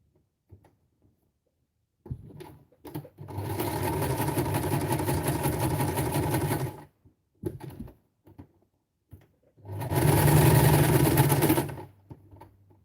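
A sewing machine stitching fabric scraps, two loud sustained runs of rapid needle chatter separated by short stops and small clicks, near and with no talk over it.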